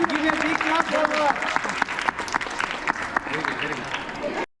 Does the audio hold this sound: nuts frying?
no